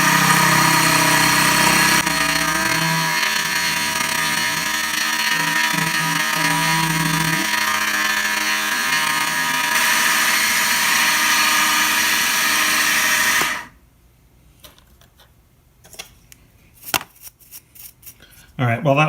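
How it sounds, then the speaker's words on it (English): Model 6450 mini mill running at about 1900 RPM on a light cutting pass, a loud steady high-pitched whine with grinding chatter that cuts off abruptly, leaving faint clicks and handling noises. "I'll make one more light pass and see if we can clean it up, and I'll run it even higher RPM and see what happens"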